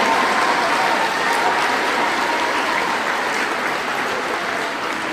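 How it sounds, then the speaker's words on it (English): An audience at a school Children's Day programme gives a steady, loud round of applause for the teachers, a dense wash of many hands clapping with no break. "please give a huge round of applause for all the teachers once again"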